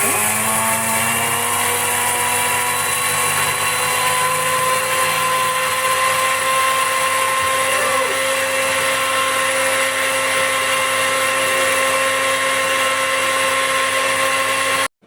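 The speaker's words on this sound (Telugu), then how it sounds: "ధనియాలని మిక్సీలోకి వేసేసుకొని మూత పెట్టేసి మిక్సీ అయితే పట్టేసుకుంటున్నాను" Home kitchen mixer grinder whining at a high, steady pitch as it grinds coriander seeds into powder, close and loud for nearly the whole stretch before cutting off at the end.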